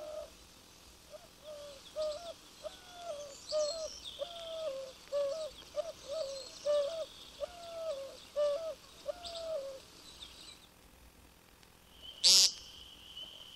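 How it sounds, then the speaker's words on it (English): Repeated cooing calls of a migratory white-winged dove, a game bird of the Mexican border states, given as a steady series of hoarse, rhythmic phrases at moderate distance, followed by a brief sharp click near the end. "migratory white-winged dove is considered a game bird in the states bordering Mexico."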